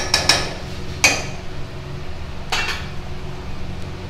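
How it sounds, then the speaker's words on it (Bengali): A spatula scrapes and clinks in a pan as potatoes are stirred into cooking chicken, a few sharp metallic taps spaced apart over a low, quiet background. "আলু দিয়ে নাড়িয়ে নেব একটু।"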